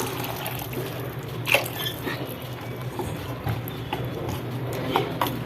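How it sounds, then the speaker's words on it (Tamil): Water poured into a pea kurma curry with onion, tomato and masala, a soft continuous trickle and splash with a few sharper drips and clinks, close and moderately quiet. "நீங்கள் இப்போ நான் ஊற்றிக்கிறேன் கொஞ்சம் தண்ணி"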